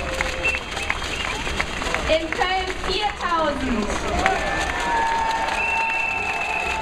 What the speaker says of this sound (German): Ein Applaus für Berlin.